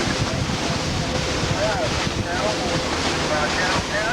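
Ocean waves washing against a boat at sea, a loud, steady rushing swell mixed with heavy wind buffeting the microphone and faint creaks throughout.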